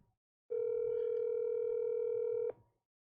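A telephone tone sounds during an outgoing call to someone who normally picks up: a single steady tone held for about two seconds, clear and fairly loud, then cut off abruptly, with quiet before and after.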